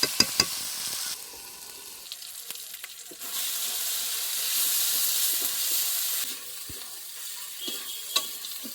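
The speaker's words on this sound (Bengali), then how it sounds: "এবারে আমি এর মধ্যে দিয়ে দেবো ম্যারিনেট করা মাংসগুলো।" Marinated chicken goes into a hot pan with mango leaves, bringing a sudden loud sizzle that swells for a few seconds and then eases, with clattering utensil knocks and stirring around it, close up and without speech.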